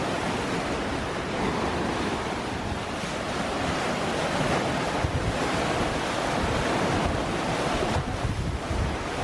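Rough seas crash and hiss around a sailboat running fast on passage from Tonga to Minerva Reef, with steady gusting wind buffeting the microphone in a loud, unbroken wash of surf and spray.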